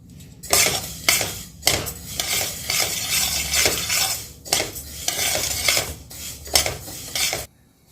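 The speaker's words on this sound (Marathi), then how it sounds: "आता तांदूळ पण गॅस मिडियम करून भाजून घेऊया" Raw rice grains dry-roasted over medium heat in a pan for thalipeeth bhajani, stirred with a metal spoon that scrapes and clinks against the pan in repeated close, fairly loud bursts.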